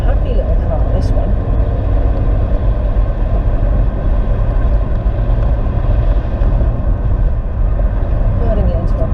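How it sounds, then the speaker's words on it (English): A Citroen Saxo small car pulls along a main road, heard from inside as a steady, loud engine and road drone with no breaks. "It's a happy little car, this one."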